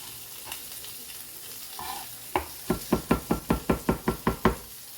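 A knife chops through smashed brussels sprouts on a cutting board, giving a steady run of about ten crisp, evenly spaced knocks close by over faint kitchen background noise.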